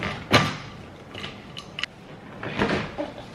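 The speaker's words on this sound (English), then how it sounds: "Gonna change out this crusty door panel." A worn, crusty door panel is pried off a truck door. There are a few sharp plastic snaps and clicks, with scraping and creaking between them, all close and moderately loud, and no one speaking.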